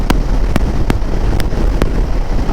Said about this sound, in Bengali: প্রচুর হাওয়া, প্রচুর।